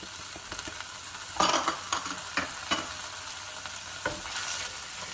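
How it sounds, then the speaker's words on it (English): Rice being toasted in avocado oil in a pan, giving a soft sizzle broken by scraping stirs and several short clattering strokes of a utensil against the pan. "what I'm going to do first is toast my rice"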